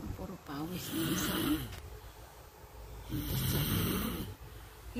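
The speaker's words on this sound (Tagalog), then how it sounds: "Hilik pa doon." A person snores in two long, rasping breaths close by, with voices talking over the top during the snores.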